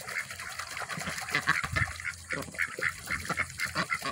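Ducks freshly released onto a new pond give repeated quacks and honking calls with faint splashing, fairly close and steady throughout.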